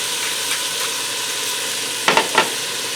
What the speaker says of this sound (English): I'm going to continue browning that hamburger, or the sausage, and I'm going to saute the onions while the sausage browns